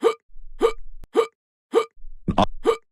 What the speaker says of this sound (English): Oh no, your hiccups are getting faster.